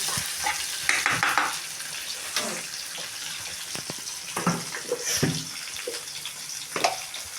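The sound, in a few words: cumin seeds added to a pan, stirred and sizzling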